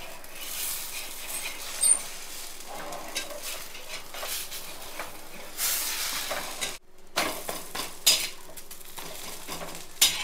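A paneer dosa sizzles on a pan with butter and oil, a soft hiss under intermittent scraping and clinking of a spatula and utensils, with a short silent gap midway.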